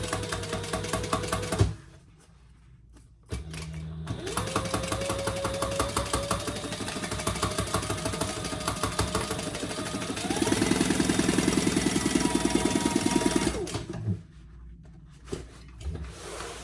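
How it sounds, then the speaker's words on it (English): A sewing machine runs in long bursts as it stitches a half-inch seam on a jumbo beach tote bag, with a steady rapid mechanical whir, brief pauses and a faster back-stitching stretch, close up and without talking. "And then we'll sew our 1/2" seam allowance. Back stitching well on those corners."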